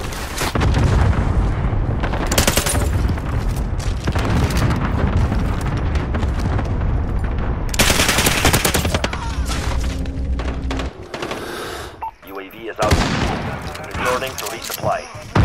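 Rapid video game gunfire rattles in dense, loud bursts with booming blasts, broken by a short lull before more shots, while a player talks over the action.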